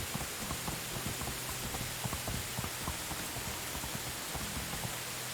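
Loud, steady rain in the medieval survival game Medieval Dynasty, a dense hiss of falling water with scattered droplet taps, continuous and even throughout.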